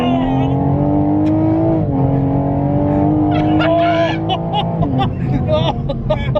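A tuned 550 BHP Toyota Supra by Evolve Automotive accelerates hard along a straight road at the national speed limit. Its engine note climbs steadily and loudly through the gears, with short dips at the shifts, while voices sound faintly underneath.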